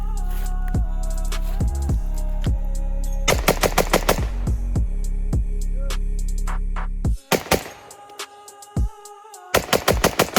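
Rapid bursts of gunfire from a PSA JAKL rifle ring out in sharp clusters over a steady droning background, with a brief lull before another quick string of shots.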